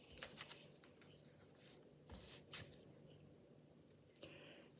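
Scissors snip pictures out of a newspaper in a few short, crisp, close cuts with paper rustling between them, quiet and without talking.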